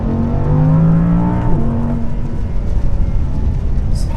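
An Audi R8 V10+ supercar accelerates hard, its engine note climbing loudly through the revs before a quick gear change drops the pitch, then it pulls on with rough, close-up mechanical roar.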